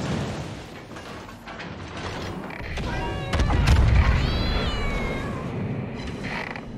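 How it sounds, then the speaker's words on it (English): A cat captain character meows in a video game battle, its voice-over rising over a busy, layered game soundscape with creaks, mechanical noise and a low rumble. "The enemy can hear the cat."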